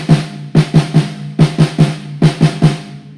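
Snare drum check pattern of four groups of eighth notes in a drumset lesson, played as crisp evenly spaced single strokes in short clusters with brief pauses between groups, loud and close.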